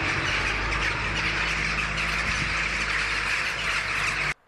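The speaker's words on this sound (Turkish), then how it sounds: "Günün ilk ışıklarıyla ötmeye başlayan kargalar ilçenin kabusu oldu." Crows caw over a town in Oltu, Erzurum at first light, a dense, loud chorus of many harsh overlapping calls that continues steadily before cutting off abruptly.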